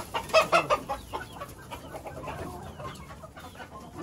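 Native desi chickens on a poultry farm cluck close by, with a burst of sharp calls at the start and then softer, scattered clucks over faint farmyard background.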